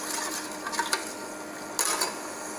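A spoon stirs cardamom sugar syrup boiling in a pan for badusha, making a steady bubbling hiss broken by a few sharp metallic scrapes and clinks against the pan.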